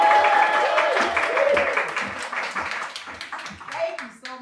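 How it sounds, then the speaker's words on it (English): Scattered audience clapping at a capital campaign press conference, fairly close, fading gradually toward the end while a voice speaks over it. "So please give a big round of applause."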